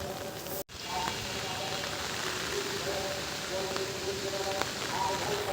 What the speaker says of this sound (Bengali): এখন কিন্তু প্রচণ্ড বৃষ্টি হচ্ছে।